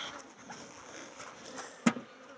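Honey bees drone steadily around an open hive box during colony splitting, a faint, continuous buzz with one sharp knock near the end.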